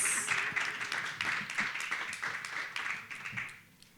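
An audience at a keynote event claps in a moderate round of applause that holds steady, then fades away toward the end.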